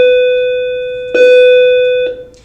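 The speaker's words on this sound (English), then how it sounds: "Excuse the bell." An electronic bell rings in a school classroom as a loud sustained tone with a clean pitch, restruck once midway, then fading out at the end.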